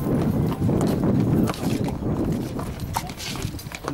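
Horses walking with a busy clip-clop of hooves near the listener, irregular overlapping steps under steady outdoor noise, tied to camels and horses in Egypt.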